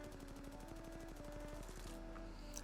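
Rapid automatic fire from an R-301 rifle in Apex Legends, a steady run of evenly spaced shots for about two seconds before it stops, loud and close with no talking.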